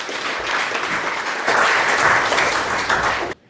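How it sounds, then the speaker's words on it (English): A crowd applauds steadily, swelling louder halfway through before cutting off sharply. "Give a round of applause for our fantastic judges"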